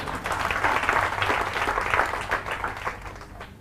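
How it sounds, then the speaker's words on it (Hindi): An audience claps in a brief, lively burst of applause, many hands together at close range, fading gradually over a few seconds. "तो इनके लिए तालियां बजाओ एक बार।"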